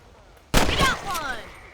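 A single loud rifle shot rings out at rabbits in the video game Red Dead Redemption, a sharp blast followed by a long rolling echo, with voices talking around it.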